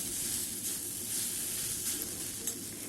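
Mango pieces sizzle steadily as they are stirred and cooked in a pan for a sweet mango preserve, a close, continuous hiss with soft scraping from the stirring and no voices.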